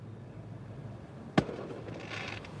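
A single firework bang goes off nearby, one sharp loud crack against a quiet indoor background, followed by a faint hiss or rumble trailing off.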